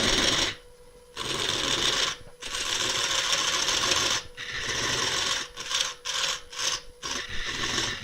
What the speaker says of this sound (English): Just turn the lathe speed up a little bit.